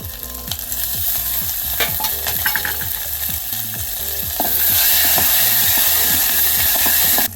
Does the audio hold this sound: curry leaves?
yes